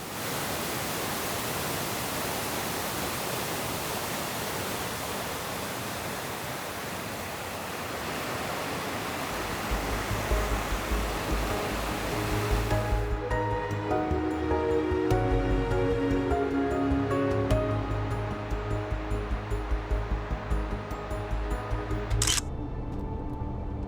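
A waterfall rushes in a steady, loud roar for a long stretch, then thins out as fainter tonal sounds come in, on Senja, Norway.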